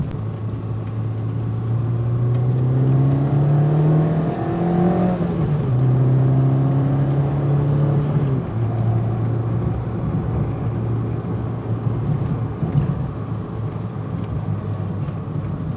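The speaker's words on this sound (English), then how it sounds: "there's almost no drop in the revs when you change a gear up, and you will always stay in the zone of the engine" A Peugeot 106 Rallye engine revs hard through several upshifts, the pitch climbing, dipping briefly at each gear change and climbing again, loud and close from inside the car with no talk.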